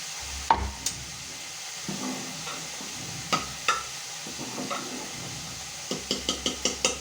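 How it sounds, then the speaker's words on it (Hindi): Tadka for daal with tomatoes being fried in a pan: a faint, low sizzle runs under scattered metallic taps and scrapes of a stirring spoon, which bunch into quick repeated clinks near the end. "जब तक हमारा तड़का हो रहा है"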